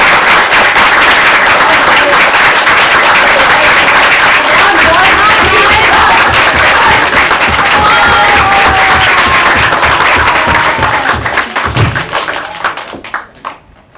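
An audience in a theatre claps during a stage comedy performance, a dense, loud, sustained patter of applause that fades out near the end.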